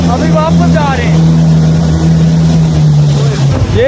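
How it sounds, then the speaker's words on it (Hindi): A boat motors across the Neelum River near Sharda village, its engine droning loudly and steadily while waves wash and wind rushes past. "इस टाइम हम दरियाए नीलम के बिल्कुल दरमियान में बोटिंग कर रहे हैं"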